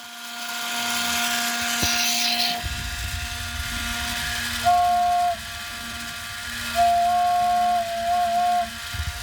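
A smoking Echo toys steam engine whistle sounds in steady, sustained hoots, with a couple of longer blasts near the end over a hissing, rumbling background.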